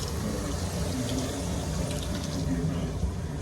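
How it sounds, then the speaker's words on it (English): Water pours into a cooking pot in a steady, splashing stream, continuous and close, while someone talks over it. "I'm gonna add some water"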